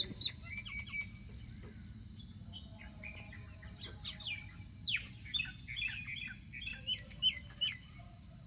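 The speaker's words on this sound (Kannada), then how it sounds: "ಅಕ್ಕಿ ಪಕ್ಷಿಗಳು ಗಾನ ಎಷ್ಟು ಚೆನ್ನಾಗಿ ಕೇಳಿಸುತ್ತೆ ಕೇಳಿಸ್ಕೊಳ್ಳಿ" Birds chirp and sing in short, scattered calls, fairly faint and a little distant, over a steady high hum of insects.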